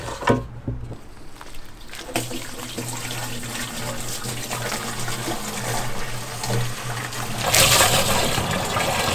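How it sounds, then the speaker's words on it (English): Water runs from a tap, filling jugs for a van conversion's DIY water system: a steady, gushing stream close by that grows louder and brighter as the jug fills. "So now we're going to fill the jugs up"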